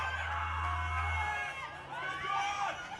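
A large crowd at a Formula 1 fan forum stage in Australia cheers and whoops together, a fairly soft wash of voices that swells again near the end.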